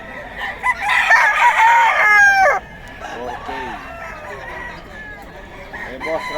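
A Boston White fighting rooster crows loudly and close by with a long, strained call, followed by softer clucks and bird noises in the background.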